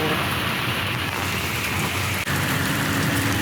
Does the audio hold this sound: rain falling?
yes